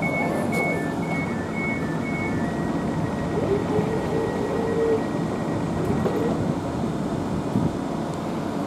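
A London train rumbles along with a steady whirring hum, with a few faint tonal beeps early on.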